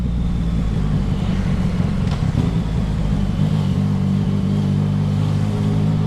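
Yamaha XSR 900 motorcycle accelerating hard, a loud close engine drone whose harmonic tones climb and shift as the revs rise, with wind rush throughout and no talking.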